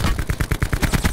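Rapid burst of sniper rifle gunshots in the video game Call of Duty Blackout, about a dozen sharp cracks in quick rhythmic succession, loud and close with no talk over them.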